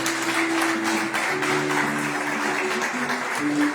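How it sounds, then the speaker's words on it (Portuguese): A church congregation applauds during a service, with steady massed clapping throughout and a faint sustained musical tone beneath. "Você pode aplaudir o Senhor?"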